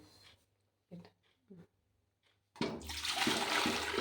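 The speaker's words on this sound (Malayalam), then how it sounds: "നമ്മൾ ചൂടുവെള്ളമാണ് ഒഴിച്ചത്" Boiled hot water is poured into an idli steamer pot on a stove, a loud steady rushing splash that starts suddenly after a few faint knocks and soft sounds and keeps going to the end.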